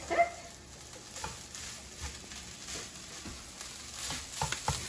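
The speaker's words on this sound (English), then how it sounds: "So I'm going to add cooked beef and onions to the potato." Cooked ground beef and onions being stirred into potatoes in a skillet, a quiet, steady frying sizzle with soft, intermittent scrapes and clinks of a utensil throughout.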